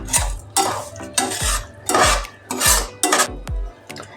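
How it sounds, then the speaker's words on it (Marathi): A metal spoon stirs and scrapes semolina and dry fruits roasting in ghee in a pan, with rhythmic strokes repeating about every half second, close and clear with faint sizzling. "याच्यामध्येच मी हे ड्रायफ्रूट्स घालते ते पण तुपामध्ये चांगले परतून निघते"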